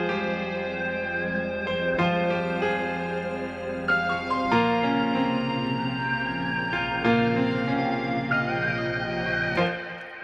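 A West Coast style hip-hop beat with strings, vocal samples, lead guitar, a sustained pad, a reverse effect and piano plays in full, layered and steady with light echo throughout.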